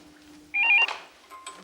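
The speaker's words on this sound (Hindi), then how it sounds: "देखो टेलीफोन।" A landline telephone rings indoors in an Urdu drama scene, a short bright electronic ring burst that is moderately loud, followed by a fainter second burst over a quiet room.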